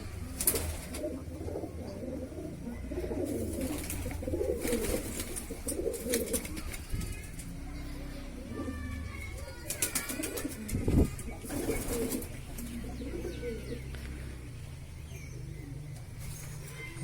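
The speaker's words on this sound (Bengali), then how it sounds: "এই দেখুন এই হচ্ছে খোঁপের সামনেই সব পায়রা আমাদের বসে আছে" Pigeons coo steadily in front of their coop, a dense, overlapping flock murmur with scattered brief wing flutters and faint background voices.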